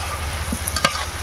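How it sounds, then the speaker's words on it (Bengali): Labra vegetable curry with sugar just added is stirred in a pan, with a brief close scrape over a steady low sizzle and no voices. "চিনি দিয়ে দিলাম, নেড়ে দিচ্ছি।"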